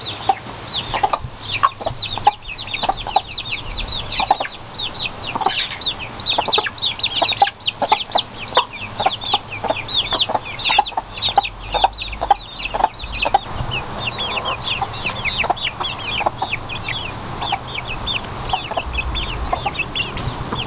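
A farm chicken flock clucking and chattering continuously and fairly loudly, with many overlapping close calls over a steady outdoor background.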